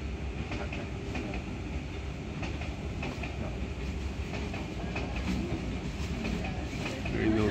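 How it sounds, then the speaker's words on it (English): A train rumbles steadily nearby, its wheels clicking in a rhythmic clickety-clack that grows slightly louder toward the end. "Another train."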